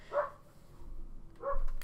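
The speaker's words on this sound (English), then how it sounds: "Bloody dog barking" A dog barks twice, one short bark at the start and another about a second later, moderately loud against a quiet room background.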